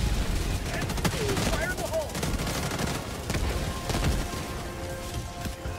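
Grenades and gunfire in Helldivers 2 make a steady fusillade of overlapping shots and dull blasts while a building collapses nearby. Voices talk over the continuous din.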